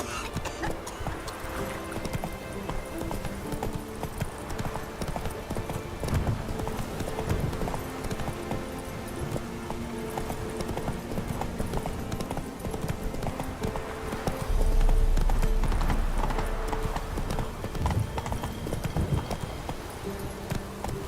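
Roach, the horse from The Witcher 3, gallops with a steady rapid clip-clop of hooves across the whole stretch over a continuous game soundscape, swelling louder briefly near the end.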